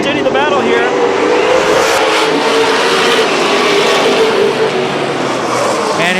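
Late model race cars roar around Madera Speedway during a battle for the lead, loud sustained engine drone with revving and passing swells, under continuous commentator talk.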